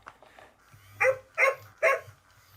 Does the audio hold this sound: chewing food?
no